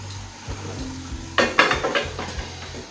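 Okra cooks on a tawa griddle with soft clinks and scraping from stirring, a brief light sizzle, and a few louder utensil knocks against the pan partway through.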